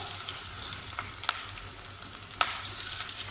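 Beef chunks dropped one by one into hot ghee over a low flame give a soft, steady sizzle with sharp crackles and pops, most notable a few seconds apart, heard alone with no talking.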